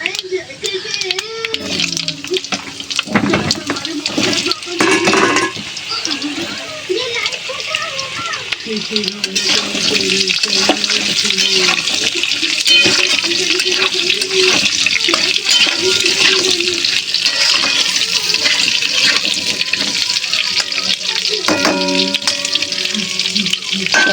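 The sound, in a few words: potatoes frying in oil in a kadai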